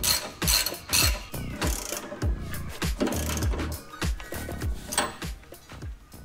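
A ratchet clicks in quick, repeated bursts while tightening a trailing arm bolt on a Defender during a lift kit install, close and sharp with a few metallic clanks between strokes.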